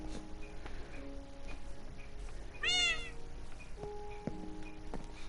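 Cats meowing in the Minecraft video game, a rising, wavering meow in the middle over a steady game backdrop with chiming musical notes around it.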